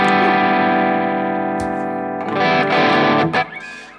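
An electric guitar through a Mesa Mark V:25 amplifier in extreme mode rings out as a loud, heavily distorted sustained chord, then gives way to a burst of scraping, choppy notes and noisy string hits.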